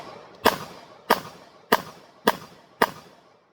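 Five handgun shots fired in quick succession at a target at a shooting range, sharp cracks spaced about half a second apart with a brief echo trailing each.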